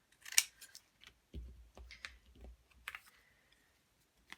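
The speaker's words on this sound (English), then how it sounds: "These scissors are fantastic" Scissors snip through preserved tea-card tags in a series of close, crisp cuts, with a sharp first snip followed by a longer stretch of soft, scraping blade strokes and a few lighter clicks.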